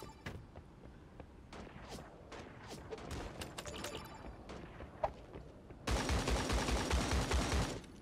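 Gunfire in a shooter video game: scattered sharp shots and clicks, then a dense, loud burst of rapid automatic fire near the end.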